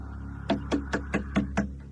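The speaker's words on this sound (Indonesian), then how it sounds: "bapakku mengetok pintu" Six evenly spaced knocks on a door, firm and close, sounding alone with no talk and a steady low hum behind them.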